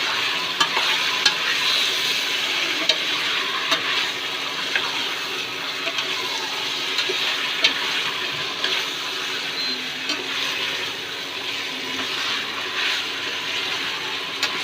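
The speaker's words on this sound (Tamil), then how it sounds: "அப்படியே எண்ணெயிலே சிக்கன் வதங்கட்டும்" Marinated chicken sizzles and fries steadily in hot oil in a pan, a loud continuous hiss with occasional stirring scrapes throughout and no talk.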